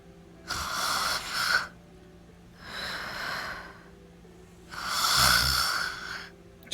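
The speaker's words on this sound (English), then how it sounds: "She snores very loudly." A girl character in the video game Death End Re;Quest 2 snores loudly: three long, heavy snores separated by quiet pauses, close and clear with no talking.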